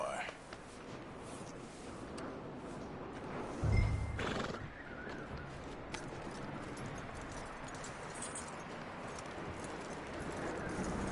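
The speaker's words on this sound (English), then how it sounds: "That looks like a decent horse." In Red Dead Redemption 2, a horse gives a sharp whinny over clip-clopping hooves and quiet outdoor ambience. The sound is faint overall, with soft voices nearby.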